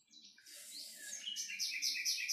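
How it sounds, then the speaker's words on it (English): A nightingale sings from a recorded bird track played during a beginner yoga balance class, its clear rapid chirps and trills rising to a bright, repeating burst of notes, close and fairly loud with no talk. "we can hear on the bird recording a nightingale"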